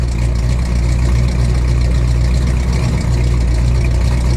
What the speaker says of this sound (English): I'm gonna listen to it idle